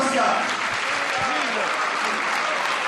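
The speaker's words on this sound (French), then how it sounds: "Je vous demande d'applaudir Jean Zuccarelli, maire de Bastia." Audience applauding at a political campaign rally in a theatre in Bastia for a mayoral candidate, with dense, steady clapping filling the hall throughout and a voice briefly rising over it.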